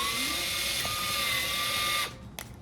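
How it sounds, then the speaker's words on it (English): A cordless drill bores through a kitchen cabinet to mount a handle, a steady close whine for about two seconds that then stops, followed by faint clicks. "So let's drill through."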